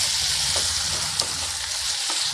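Elephant foot yam roast with coriander leaves stirred in a pan, a steady close sizzle with a few soft scraping strokes of the spoon, no talking.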